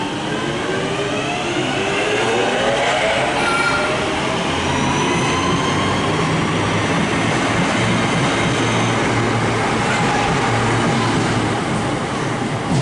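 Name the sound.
Northern train departing Stockport station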